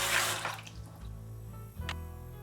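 Water is collected in the Nancy Drew adventure game, with a brief splashing pour at the start, then soft drips and trickles over a low background hum.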